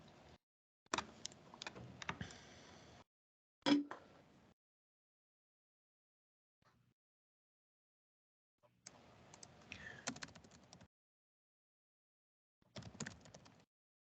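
Typing on a computer keyboard during a parks commission meeting: bursts of quick, faint key clicks separated by long silent gaps.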